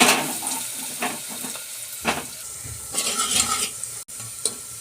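Onions fry in mustard oil inside a pressure cooker, a close, loud sizzle broken by repeated stirring scrapes and knocks of a spoon against the metal, with no speech.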